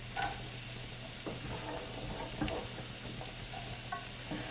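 Onions and chopped greens cook in a pan for Thanksgiving stuffing, a steady low sizzle with occasional soft knocks and scrapes from stirring, no voices.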